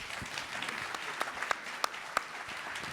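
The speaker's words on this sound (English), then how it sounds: "a big round of applause for our panelists" Applause from a conference audience for a panel at an asset management event, a steady wash of many hands clapping with a few sharper, louder claps standing out near the end, no talking.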